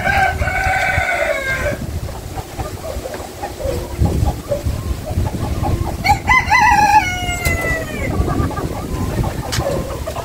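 Outdoors with backyard fowl, a rooster crows loudly twice in long drawn-out calls while chickens cluck around it, all over a constant windy rumble.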